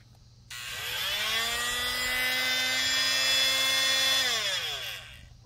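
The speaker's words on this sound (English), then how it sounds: "We have a drill or something we could test with." A power drill whirs steadily for several seconds, its pitch rising at the start and falling as it winds down, loud and close with no talking.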